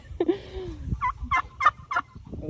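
A domestic turkey gobbles close by in a run of four or five rapid, loud bursts, with one drawn-out call before them, while other farmyard noise rumbles underneath.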